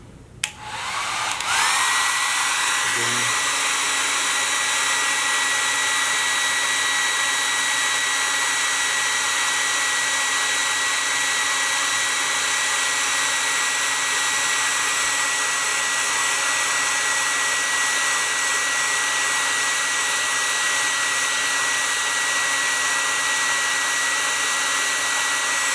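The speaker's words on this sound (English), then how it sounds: "Okay, get your hair dryer, hold it up high." A hair dryer switches on and blows in a loud, steady roar, continuous and close for a long stretch, with no talking.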